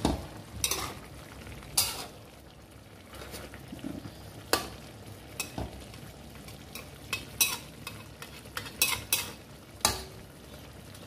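Pakbet vegetables with added prawns are stir-fried in a pan: a low frying hiss is broken by sharp, irregular clanks and scrapes of a utensil against the pan, close up and with no talking.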